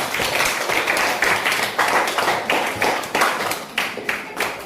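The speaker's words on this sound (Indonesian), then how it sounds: "tepuk tangan untuk Nabila semua" Classroom students clapping together for a classmate, a fairly close group of hands in rhythmic bursts that swell and fade several times, with no talk.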